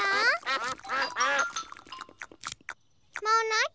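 Cartoon ducks in an animated Peppa Pig picnic episode give a few nasal quacks. They are mixed with lively Vietnamese character dialogue and come in short bursts, with one clear quack near the end.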